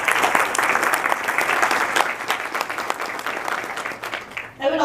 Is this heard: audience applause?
yes